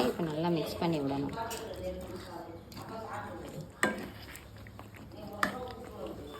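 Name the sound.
stirring potato pieces into kurma in a pot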